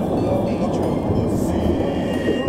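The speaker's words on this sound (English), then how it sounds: "Now I'm in a train station." A New York City subway train rumbles through an underground station, a loud, continuous low roar with faint metallic clatter, heard close and without talk.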